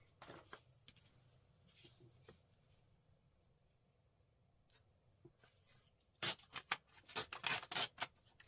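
Scissors trim paper: soft rustling and light handling at first, then a quick run of sharp close snips toward the end.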